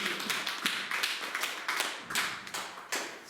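A church congregation claps for the Lord in a steady rhythmic beat, the claps fairly soft and distant in a reverberant hall.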